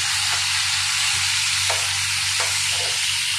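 Pangas fish frying lightly in a pan, a loud, dense, continuous sizzle with a steady low hum underneath and a few faint shifts as the pieces settle.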